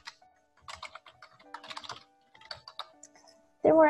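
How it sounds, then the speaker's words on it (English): Keys clatter on a computer keyboard as an email address is typed into a college admission application, coming in quick irregular bursts of close clicks with short pauses, then a brief louder sound at the end. "We're gonna type our email address and we're gonna repeat it."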